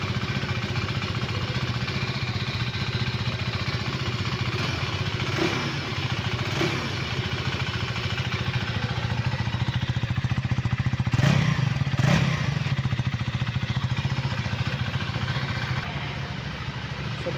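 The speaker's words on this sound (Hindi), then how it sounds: "आपको मैं एग्जॉस्ट नोट सुनाता हूँ गाड़ी का।" A 2024 KTM Duke 390 motorcycle engine idles with a steady, low rumbling exhaust note, close by, with a couple of brief clicks or knocks partway through.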